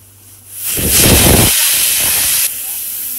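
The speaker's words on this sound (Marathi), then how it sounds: "ह्याचे आता 4 शिटी कमीत कमी आपण करून घेऊया" A pressure cooker cooking dal lets out a loud steam hiss, rising suddenly, holding strong for about two seconds, then dropping to a softer steady hiss.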